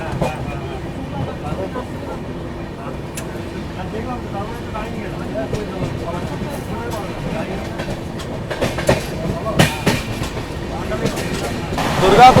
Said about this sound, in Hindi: दुर्गापुर से निकलते ही ट्रेन अपनी पूरी रफ्तार में भाई फ्लैट 130